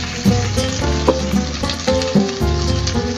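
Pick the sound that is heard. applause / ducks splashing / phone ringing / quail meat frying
quail meat frying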